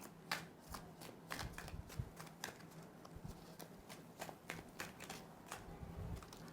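Playing cards shuffled by hand in a quiet room, a steady run of crisp riffling flutters and soft slaps repeating close to the mic with no talk over them.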